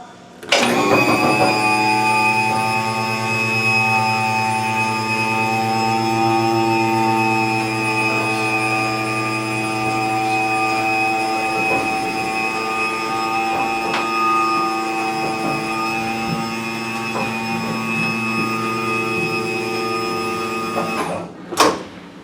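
A Concord/National Wheel-O-Vator hydraulic wheelchair lift motor runs close and steady for about twenty seconds with a tonal whine and faint mechanical clicks. It winds down and stops with a clunk.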